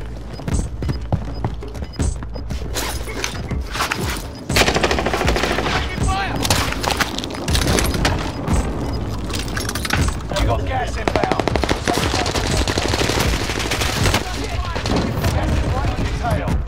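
Hostile gunfire in a video game: dense, loud machine-gun bursts and rapid shots rattling almost without pause, growing heavier partway through, with a voice heard among them.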